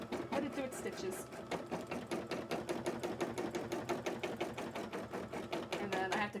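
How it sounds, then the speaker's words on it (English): Sewing machine running steadily while stitching a cosplay costume contest entry, a fast even rhythm of needle strokes held close and loud throughout, with a voice briefly in the background. "Let it do its stitches."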